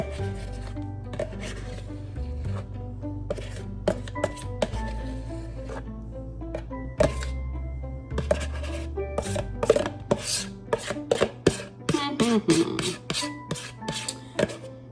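Food is scooped out of a container with a utensil, making repeated scraping and knocking strokes that grow quicker and sharper, while steady music plays underneath.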